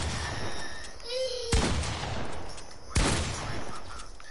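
Shotgun blasts in the video game Fortnite, two loud sharp booms about a second and a half apart, with game sounds and chatter between them.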